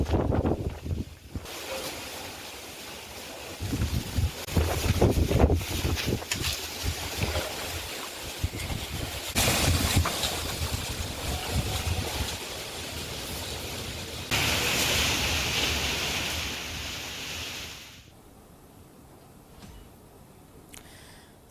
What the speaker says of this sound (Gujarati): ભારે પવન ફૂંકાયો